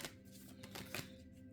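Tarot cards riffled and shuffled by hand close by, a soft continuous papery flutter with a few brighter snaps, quiet throughout.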